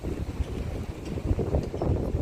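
Steady wind gusting at night outside the Radisson Blu Doha hotel, a continuous rough rumble buffeting the microphone up close for a couple of seconds, no voices.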